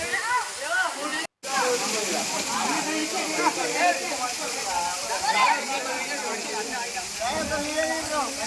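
A waterfall pouring among the hills at Pandav Lanka gives a constant, hissing rush of water, with people talking over it and a brief dropout near the start.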